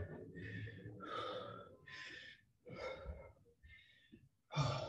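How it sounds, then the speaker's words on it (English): Heavy, laboured breathing after a home workout session: a run of loud gasping breaths and huffs in an irregular rhythm, close up, with no speech. "That's got me breathing heavy."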